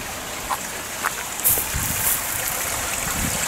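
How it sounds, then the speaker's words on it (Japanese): A small river, the Katabira in Yokohama, flows past a park in a soft, continuous wash of trickling water with a few faint splashes, heard alone at low level. "あ、ほら、やっぱ川の音だよ。"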